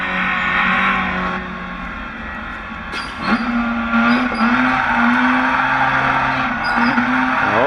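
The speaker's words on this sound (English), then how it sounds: "Colton, let's see the best lap out there." A modified Mitsubishi Eclipse runs a fast lap, its engine loud and close, dropping briefly, then revving hard again with a rising whine through the gears and a few sharp transient pops.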